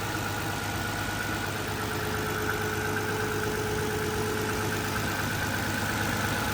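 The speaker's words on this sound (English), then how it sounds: "Twin turbo engine," A 1998 Nissan Fairlady 300ZX twin-turbo V6 engine idles steadily at a low, even hum with a faint whine on top, continuous and unchanging throughout.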